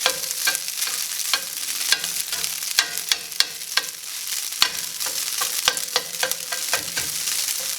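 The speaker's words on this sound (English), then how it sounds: "I'm going to use this spatula to kind of break it up a little bit more" A metal spatula scrapes and breaks up a ground beef substitute sizzling in an oiled frying pan. Steady frying hiss runs throughout, punctuated by frequent sharp taps and scrapes, close up and without talk.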